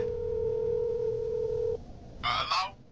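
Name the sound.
telephone dial tone as a phone is picked up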